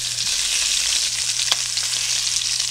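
Sausages, peppers and onions fry in a skillet with a steady, dense sizzle that holds close and even throughout, with a faint low hum beneath and a single brief utensil tap midway.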